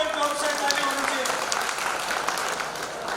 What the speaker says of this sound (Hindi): इनके लिए भी बहुत जोर से ताली होनी चाहिए